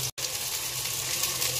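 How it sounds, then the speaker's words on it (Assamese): Masala fries in a covered pan on low heat, a close, steady hiss and sizzle that cuts out for an instant and then resumes unbroken, with no talking. "এতিয়া মছলাকণ দিওঁ একদম কম ষ্টিমত মই ঢাকি ভাজি থাকিম"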